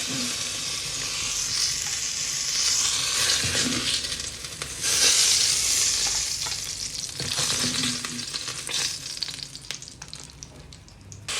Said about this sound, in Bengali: আর এইদিকে ভাজি করছি হচ্ছে আয়ের মাছ